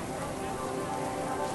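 Artificial rain pours down inside the Rain Room installation at MoMA in New York, a dense, even hiss of falling water on the floor with no break.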